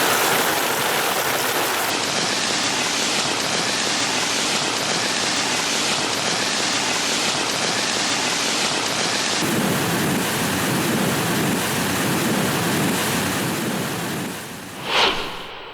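Heavy rain pours down steadily with a dense roar of rushing, flowing water that fills the whole stretch, easing slightly near the end before a short sharp knock.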